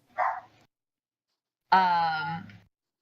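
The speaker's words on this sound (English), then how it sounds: "Al, if your dogs are barking, mute your mic." A dog gives a short yip and then a longer, drawn-out bark or howl after a brief silence, clear and close, picked up over an open microphone.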